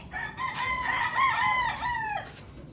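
Farm chickens call in a loud, close, drawn-out crowing-like cry lasting a few seconds, with no voices heard.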